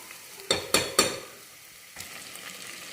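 Mutton curry masala frying in a pan, with three sharp sizzling bursts in quick succession from stirring, then a quieter steady crackle that picks up again near the end.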